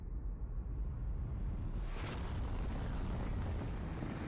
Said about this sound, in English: Having spotted an enemy, I take my shot.